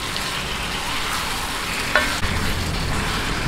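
A spoon stirs a chicken cube into tinola sa gata, chicken simmering in coconut milk in a pot, with a steady bubbling sizzle underneath and a brief clink of the spoon near the middle.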